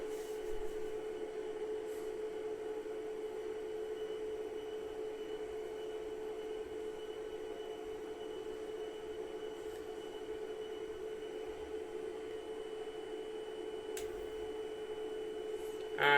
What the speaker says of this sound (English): it is quite a noisy thing, to be honest, because especially when it's booting up